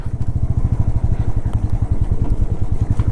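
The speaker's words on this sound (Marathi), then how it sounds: "पहाड़ों में बाइक चलाने का मज़ा अलग है" A motorcycle rides a mountain road on a long-distance trip toward Spiti Valley, its engine throbbing steadily and loud up close, with a rapid pulsing rhythm and no talk.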